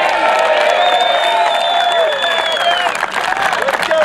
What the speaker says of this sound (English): Please give a round of applause to Damian Sobieski.